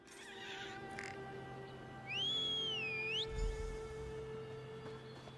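A single rising-and-falling whistle sounds in the video game Elder Scrolls Online, lasting about a second over a quiet ambient hum, fairly faint.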